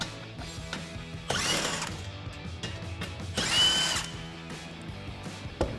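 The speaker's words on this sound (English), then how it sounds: "we'll grab our 15mm socket for these 2 bolts on the end." A power tool with a 15mm socket spins off bolts on the end of a 2021-2024 Ford Bronco front bumper, giving two loud whirring bursts separated by a quieter gap, close by, with no talking.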